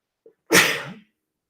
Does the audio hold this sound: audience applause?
no